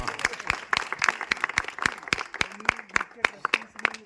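A group claps in quick uneven bursts at a gathering on a trek, sharp close hand claps scattered over a murmur of voices.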